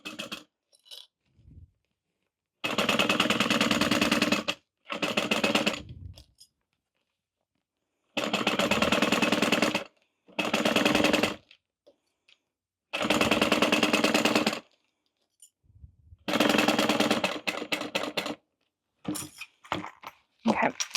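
A sewing machine stitches a fabric waist pack in a run of separate bursts, each a steady mechanical whir lasting one to two seconds with short pauses and small handling noises between, close and clear.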